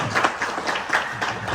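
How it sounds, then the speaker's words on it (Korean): A church congregation at a Sunday morning service gives a brief round of applause, heard as a few loose swells of clapping that rise and fade in a large room. "우리 박수 한번 드리겠습니다."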